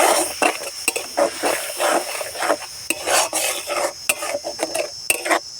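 Ground onion, green chilli and thankuni leaf paste is stirred in oil in a pan, giving repeated close scraping and rasping strokes of a utensil against metal, steady and fairly loud with no talking.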